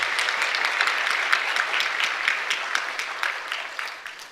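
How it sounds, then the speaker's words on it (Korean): A church congregation at a Sunday service claps together in an even patter of applause, moderately distant and fading slightly toward the end, with no talk over it. "우리 격려의 박수 한번 부탁합니다"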